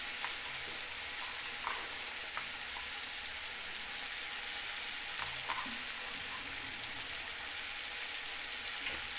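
Eggplant and previously fried radish sauté in a pan for tamarind kuzhambu, giving a steady, even sizzling hiss with a few faint clicks from stirring throughout.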